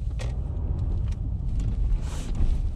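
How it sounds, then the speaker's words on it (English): A Mercedes S350d L makes an emergency stop, heard from inside the car as a steady low rumble of road noise and braking with no voices. "I'll perform an emergency stop"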